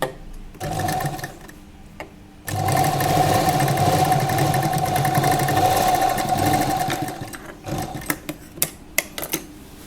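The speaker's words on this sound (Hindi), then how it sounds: "अब हम ये सिलाइयाँ लगा लेंगे।" An electric sewing machine stitches a lehenga, first in a short burst and then in a long, steady whirring run of several seconds, followed by a few separate ticks and clicks. No one speaks.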